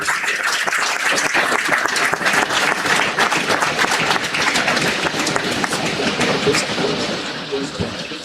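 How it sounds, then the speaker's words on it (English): Crowd applause at an international conference felicitation ceremony, a dense, steady wash of many hands clapping that stays loud throughout with some faint voices mixed in. "Guys, with a huge round of applause,"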